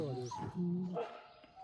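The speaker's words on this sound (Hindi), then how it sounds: "कुत्ते की आवाज।" A dog barks and whimpers in short yips close by, mixed with a person speaking over it.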